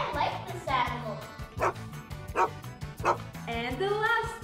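A dog yips and barks several times in quick succession, mixed with speech over a steady musical backing.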